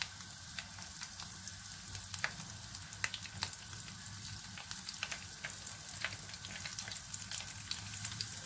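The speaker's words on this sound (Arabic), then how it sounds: "دونك انا غادي نستمر بالقليان حتى نسالي" Potato sticks fry in hot oil with a continuous close sizzle and scattered small pops and crackles, steady throughout with no talk.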